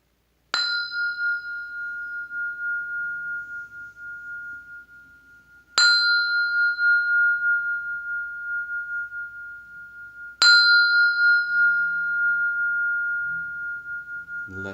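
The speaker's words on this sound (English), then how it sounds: "I'll sound this temple bell for purification" A temple bell struck three times for purification, each strike a clear ringing tone that sustains and slowly fades before the next, spaced about five seconds apart in a quiet room.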